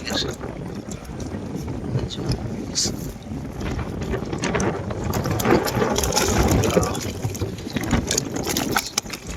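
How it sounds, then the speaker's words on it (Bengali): Strong wind over a river buffeting the microphone in a continuous roar, with a boat-like rumble and a voice talking underneath. "প্রচুর বাতাস দর্শক দেখে না"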